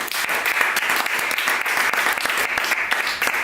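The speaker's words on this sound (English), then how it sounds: "Give me a round of applause for these fathers." An audience at a Father's Day spoken-word show claps steadily, a dense, even burst of applause filling the room throughout.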